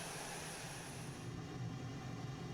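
Exterior engine drone of an F-22A jet in Microsoft Flight Simulator, sampled from the real aircraft, a faint, steady low hum with a thin high whine that fades partway through.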